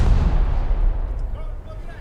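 Heavy cruiser Trento's rear gun turrets fire in a naval video game battle, a loud, deep boom that rolls into a fading low rumble over about two seconds.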